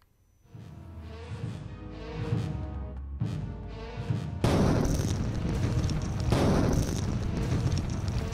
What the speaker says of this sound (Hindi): एक के बाद एक 3 धमाके हुए और फिर आसमान काले धुएं के गहरे गुबार में खो सा गया।